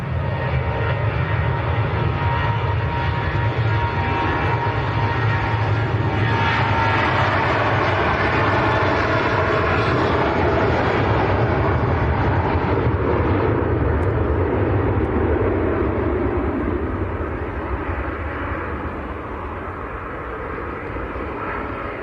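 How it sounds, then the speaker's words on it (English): A Jet2 airliner on a full-length takeoff roll at Manchester Airport, a broad sustained engine roar that holds loud for most of the span before easing slightly as it recedes. "We've got a Jet2 on the roll going full length."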